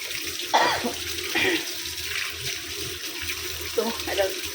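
Water running from a tap to wash household items, a steady gushing splash with a few louder clatters and splashes, alongside faint indoor background noise.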